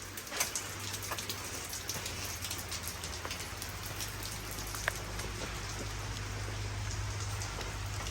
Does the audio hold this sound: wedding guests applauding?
no